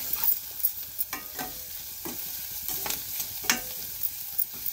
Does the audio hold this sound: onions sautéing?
yes